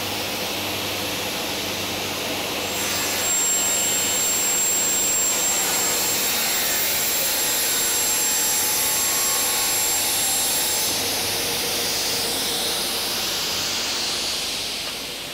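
Saw fitted with a fine-toothed finishing blade cutting melamine board, a loud steady whining roar with hiss that holds for over ten seconds before tapering off.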